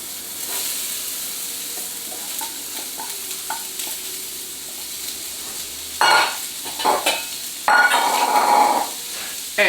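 Onions and capsicums sautéing in a hot pan for a kūmara and chickpea stew, a steady sizzle with occasional louder bursts of frying and stirring toward the end, no talk.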